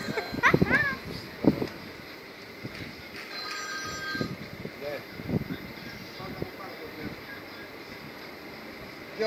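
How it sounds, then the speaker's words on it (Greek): A telephone rings in short tonal bursts amid a busy home, with children's voices and chatter around it. "Ποιος με πήρε τηλέφωνο,"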